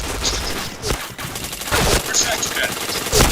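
Video game gunfire rattles in dense bursts of rapid automatic shots, loud and close, with short gaps between volleys and game effects layered in.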